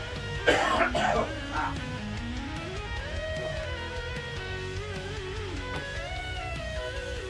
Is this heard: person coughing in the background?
yes